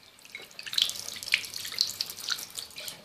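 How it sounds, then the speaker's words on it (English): Warm water runs from a tap into a container in a bathroom, a steady splashing hiss with small bright spatters, close and fairly soft. "I'm going to fill it up with warm water and then"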